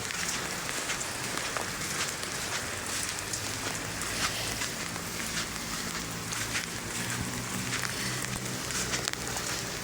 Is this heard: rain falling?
yes